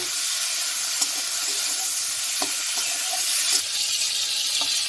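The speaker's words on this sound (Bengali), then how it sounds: "মাছগুলো এভাবে ভেজে নিয়েছি" Ganges shrimp frying in hot oil in a home kitchen, a steady close sizzle with faint crackles and occasional soft pops, no talking.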